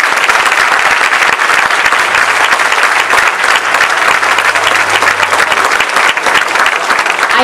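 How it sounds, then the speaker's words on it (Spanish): An audience at a jota school concert in Larraga, Navarra, gives the Tafalla rondalla a loud, dense, sustained round of applause from start to finish, close and continuous. "a la que pido un fuerte aplauso"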